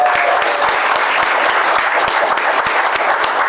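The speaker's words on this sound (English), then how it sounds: "We're going to give her own special applause." An audience at a winter recital claps steadily and loudly for a young performer, a dense, even wash of applause with no pauses.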